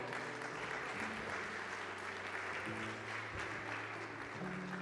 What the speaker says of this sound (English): I really need a round of applause for all of them.